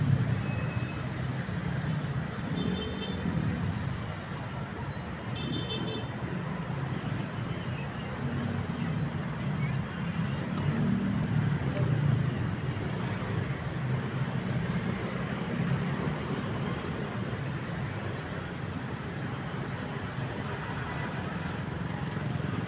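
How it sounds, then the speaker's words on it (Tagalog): Road traffic on a street in Balintawak, Quezon City rumbles on as a steady low wash of engines and idling vehicles, with faint higher noises and no clear voices. "Yan, traffic po rito ngayon sa Balintawak mga idol."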